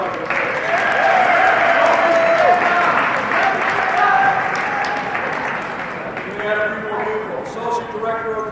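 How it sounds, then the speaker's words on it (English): Warm applause from an audience at a school event honoring its directors, full and steady at first, then thinning as a voice starts speaking over the fading claps. "Let's give them a round of applause."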